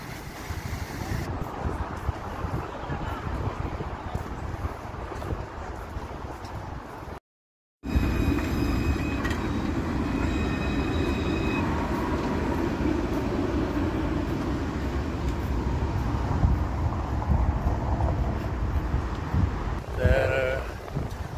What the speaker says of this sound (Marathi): तुम्ही बघू शकतात रस्त्यावरतून ट्रेन वगैरे चाललेले आहेत